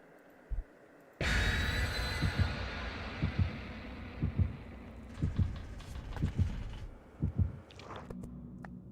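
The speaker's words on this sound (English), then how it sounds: "Hear the heartbeat." A heavy, low heartbeat from the video game Dead by Daylight thumps in a steady, repeated rhythm, close and prominent over a dark droning background, with no talking.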